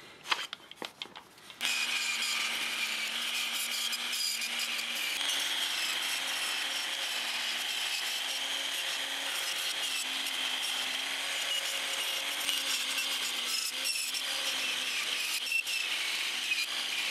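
A flap disc grinding metal on a car part, starting after a short burst of clatter and then sustained as a loud, steady abrasive whine with a shifting pitch.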